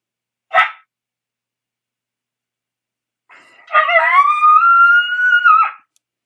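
An electronic caller plays a female coyote heat call: a sharp short yelp, then after a pause a long rising-and-falling wavering howl-like call, loud and clear with no talking.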